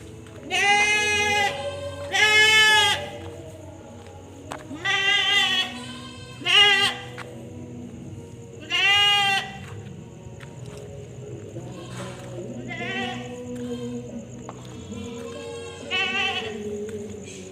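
Wild goats bleat at night on Simeulue, Aceh, in a handful of loud, wavering cries close by, with quieter calls and low voices talking in between over steady nighttime background noise.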